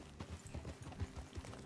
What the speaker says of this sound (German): ich glaube, da werden Wildpferde verjagt